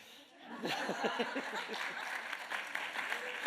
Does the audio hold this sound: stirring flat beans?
no